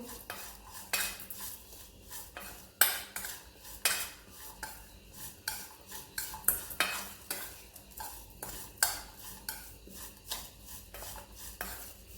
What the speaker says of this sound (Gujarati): અને સારી રીતે મિક્સ કરી દેશું